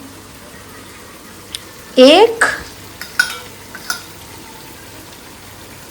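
Tamarind water poured into sambar in a pot, followed by brief stirring scrapes and clinks of a spoon against the vessel, with a short spoken remark.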